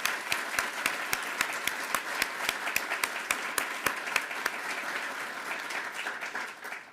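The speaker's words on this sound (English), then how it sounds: "Let's give the governor a round of applause." An audience at a university education alumni awards ceremony applauds the governor with steady, even clapping that holds throughout and tapers slightly at the end, with a few sharper individual claps standing out.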